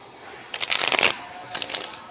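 Tarot cards being shuffled in two quick riffling bursts, close and crisp with a short pause between them.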